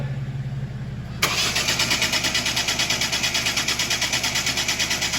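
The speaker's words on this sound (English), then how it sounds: "I'm just going to crank this over anyway, just to see what happens." A Ford Focus with an intermittent no-start fault cranks steadily without catching, the starter's fast rhythmic churning beginning abruptly after a quiet moment and continuing loud and close without firing, no talk over it.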